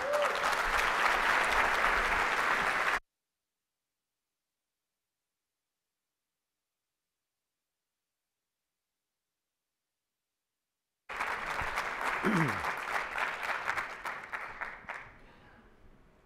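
Audience applause welcoming keynote speaker Antoine Predock at Design Summit 2018: steady, dense clapping from a large crowd that cuts to silence and then resumes, tapering off toward the end.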